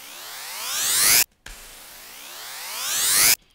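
Synthesized riser effect, a noisy sweep climbing from low to very high pitch and swelling in loudness, played twice in a row with a short gap, loud and alone.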